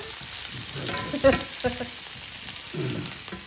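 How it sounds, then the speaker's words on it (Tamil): Garlic and onion sauté in a pan for restaurant-style Chinese noodles, with a close sizzle, scraping stirs and a sharp clatter from the utensil against the pan. "முதல் உள்ளி போட்டவர், வெங்காயம் போட்டது எல்லாம் வதங்குது."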